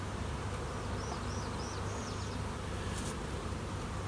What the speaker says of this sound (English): There'll certainly be enough bees to do this work.